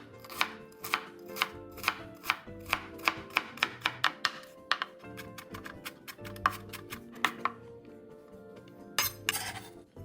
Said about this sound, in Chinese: 莲藕去皮，取60克，先切片，再切碎。